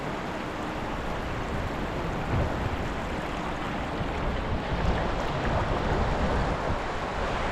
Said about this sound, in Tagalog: Parating dito yung alon, ayan na.